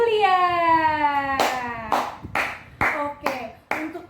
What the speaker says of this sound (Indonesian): Tepuk tangan untuk Julia.